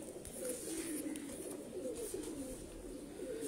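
Ferozpuri pigeons coo softly in a low, steady murmur that runs through the whole stretch, with a faint background hiss and no talking.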